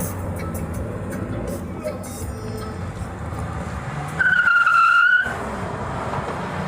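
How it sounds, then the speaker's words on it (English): Minivan screeching its tires while driving away, a single sharp, loud squeal lasting about a second over a background of road and traffic noise. "So one of the minivans screeching his tires getting out of here."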